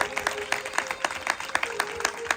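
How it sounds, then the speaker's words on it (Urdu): A congregation at a church prayer meeting claps loudly in a fast, steady rhythm, sharp repeated hand claps filling the room. "آج زوردار تالیاں بجائیں گے خدا کے کلام کے"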